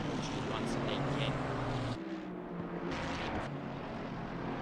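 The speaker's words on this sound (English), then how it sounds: "Just listen to that beautiful engine in the back of that Ferrari 296" A Ferrari 296 GT3 race car engine roars in a racing video game at Laguna Seca, a steady, loud mechanical drone that shifts in pitch partway through as a commentator talks over it.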